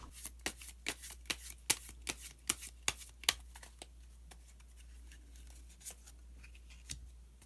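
Tarot cards are shuffled with a rapid series of crisp, close flicks and slaps, then a few slower, softer card sounds as one is drawn, with no talking.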